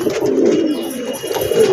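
Wild pigeons give low, rolling coos up close, a continuous warbling run that dips briefly and picks up again, fairly loud and alone.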